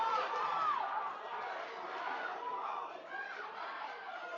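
A crowd at a 4A Washington state lacrosse championship game reacts with a steady wash of distant voices and shouts, some raised cries rising briefly above the murmur.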